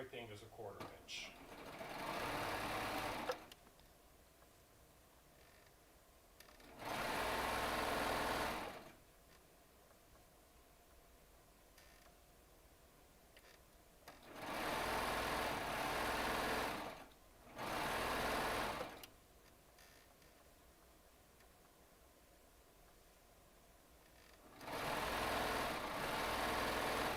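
A Baby Lock Triumph serger sews and trims fabric, cutting off selvages, in four loud steady bursts of whirring motor and rapid needle chatter, with quiet pauses between runs.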